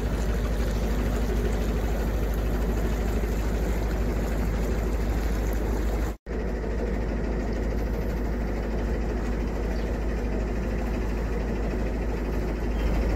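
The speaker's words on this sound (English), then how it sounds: "Right, we're going to get the engine fired up and let's go." A narrowboat engine runs on a freezing morning, a steady close drone with heavy low rumble that cuts out for an instant midway before carrying on unchanged.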